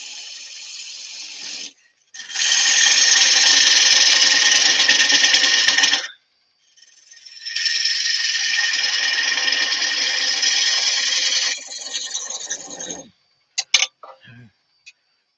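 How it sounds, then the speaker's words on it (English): A mortise reshaping scraper cuts a winged bowl spinning on a wood lathe, giving loud sustained rasping passes split by short pauses, followed by a few sharp ticks as the cut stops. "mortise reshaping scraper, which is the exact profile and angle of the sea jaws"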